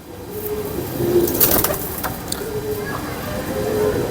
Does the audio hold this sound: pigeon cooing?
yes